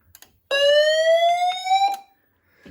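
A single loud, piercing electronic alarm tone from a Vigilant FP1600 fire alarm system test sounds for about a second and a half, rising slightly in pitch before cutting off.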